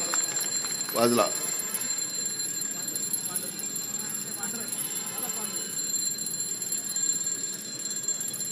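An alarm clock rings with a brief, bright burst at a public speech event, heard faintly amid hall ambience and voices talking.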